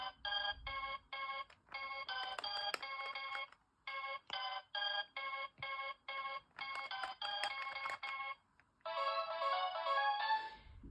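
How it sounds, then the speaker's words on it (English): Electronic beeping tones from a handheld memory game that copies the Simon Micro, with bright, buzzy square-wave notes played in rapid sequences of short bursts and longer held tones, close and clear. "all the noises are ripped from the Simon Micro"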